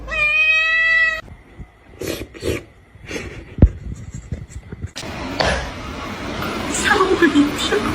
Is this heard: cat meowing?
yes